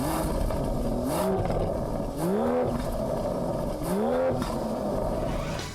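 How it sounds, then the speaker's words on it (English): An Aston Martin V12 gentleman race car producing 447 kilowatts, its engine roaring loudly in three rising revving bursts with rhythmic swells and dips, close and continuous, with no talking. "Then the engine roars from all 12 cylinders."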